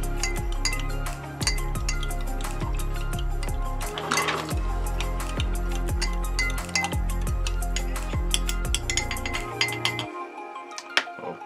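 A metal spoon stirs a salt and vinegar mixture in a glass or dish, giving steady rapid clinks and scrapes close by, with a brief liquid swirl midway, until the stirring stops abruptly near the end.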